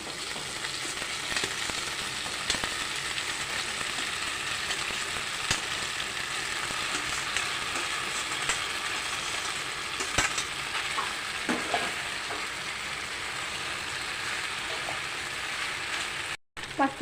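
Pasta frying and being stirred with Schezwan chutney in a hot pan, a steady close sizzle with occasional scrapes and clicks of the spoon, no talking.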